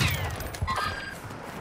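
Assault rifle fire in Call of Duty, a rapid burst of close gunshots at the start that gives way to scattered shots and game noise, fairly loud with no talk over it.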